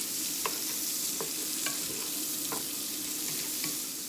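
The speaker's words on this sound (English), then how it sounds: "And just give it a good stir around" Diced radishes and bacon fry in a pan with a steady close sizzle, while a spoon stirs them and scrapes the pan now and then in a few light knocks. No one speaks.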